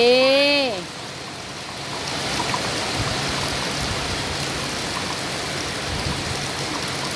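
Rain pours in a steady, close hiss while rural children play in the water, opening with a brief rising vocal squeal before the even downpour takes over.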